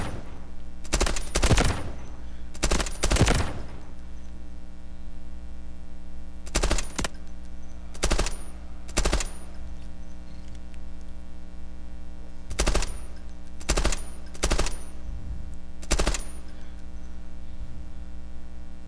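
Short bursts of gunfire from a weapon set to burst mode on a firing range in the Delta Force video game, about eight separate sharp volleys spread over steady background hum, with no talking.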